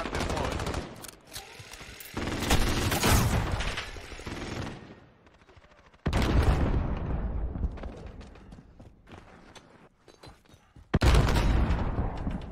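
A deployed friendly sentry gun fires in Call of Duty: Modern Warfare multiplayer, with loud, close bursts of rapid automatic fire broken by brief pauses and sharp restarts.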